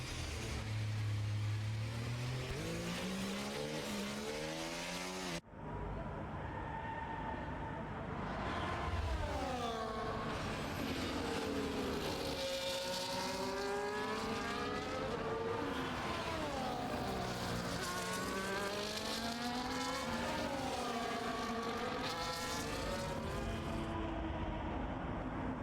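Race cars at the Singapore race run in a pack behind the safety car, a steady engine drone with rising and falling pitch sweeps as cars pass, continuous over the whole stretch.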